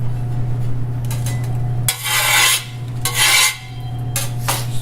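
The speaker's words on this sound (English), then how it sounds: "Scrape." Metal scraper rasping across baked-on grime inside an oven during cleaning: three broad, gritty strokes of about half a second each, close and fairly loud, over a steady low hum.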